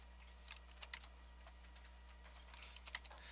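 Quiet, soft keystrokes on a computer keyboard while entering values in 3D modeling software, irregular light taps over a steady low electrical hum, with no voices.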